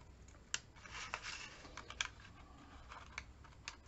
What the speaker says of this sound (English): I'm going to use my smaller scissors because I can get into it better. We're going to cut across these lines.